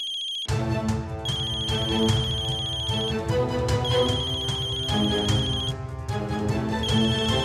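A mobile phone ringtone plays loudly and continuously, a repeating electronic melody with bright high notes over a steady backing, no voices.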